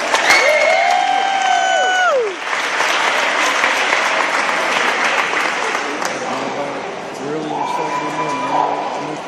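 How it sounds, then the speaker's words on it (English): A crowd at a school sports celebration claps for co-MVP award winners, dense steady applause under excited voices and a few whoops. "Let's give this couple a round of applause"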